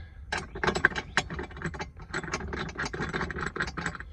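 Ratchet wrench tightening a seat belt bolt in a Ford S550 Mustang fitted with a Kirkey racing seat: rapid, steady clicking pawl bursts in quick succession, close and clear, running throughout with no talk.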